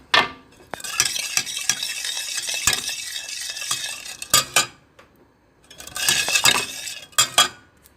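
Peanuts roasting beside sugar syrup cooking in a pan for homemade peanut chikki, stirred briskly with a utensil, loud close scraping and clinking in two long bursts with brief pauses, faint sizzle underneath.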